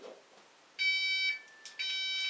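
A Texecom Premier Elite alarm panel sounding its entry warning: two sustained high electronic beep tones, each lasting about half a second, clear and close with a short gap between them.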